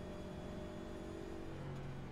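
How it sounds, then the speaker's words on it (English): A damaged stock car in the iRacing NASCAR series at Bristol, with a broken toe link and a right front wheel not spinning, gives a steady, droning engine roar with a rough grinding undertone, continuous and fairly loud. "My car is making a lot of noises that it should not be making."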